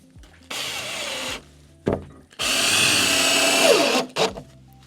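Parkside power drill whirring loudly in two sustained runs with sharp starts and stops, a garage build setting, the second run longer and slightly wavering in pitch as it spins down.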